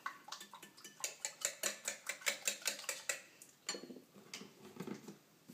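Scrambled egg mixture being stirred in a pan: quiet, steady rhythmic scraping and clicking of a utensil against the pan, about two strokes per second, then looser, uneven clatter.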